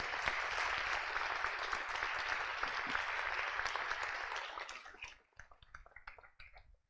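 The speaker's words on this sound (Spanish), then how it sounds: "La recibimos con un fuerte aplauso." Applause from a conference audience welcoming a speaker to the stage, a dense steady clapping that holds strong for several seconds, then thins out and fades into scattered last claps.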